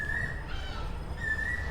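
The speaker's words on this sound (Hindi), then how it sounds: "ये चिढ़ती है कि कोयल बोली" An Asian koel calling outdoors, two clear whistled notes separated by a short pause, set against a steady low rumble of background noise.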